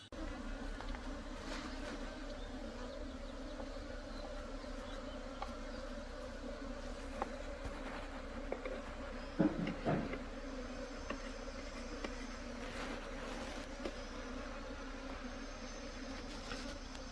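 Steady, continuous buzzing of many honeybees close by around hives, a dense droning hum with a few louder passes, no voices.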